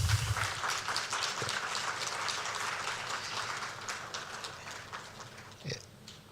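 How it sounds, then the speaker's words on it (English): Audience applause at a presidential swearing-in ceremony for new security chiefs in Ghana, heard as a faint, steady wash of scattered clapping that stays level and then thins toward the end. "A round of applause, please."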